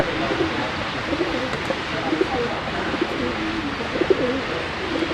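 Pigeons coo softly in a loft, with low, repeated calls scattered over a steady background hiss.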